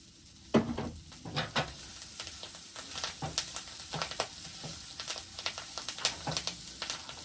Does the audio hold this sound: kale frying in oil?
yes